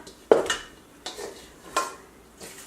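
Cooked rice being mixed in a bowl for turmeric gimbap, a few separate close knocks and scrapes of a utensil against the bowl, spaced out and fairly quiet.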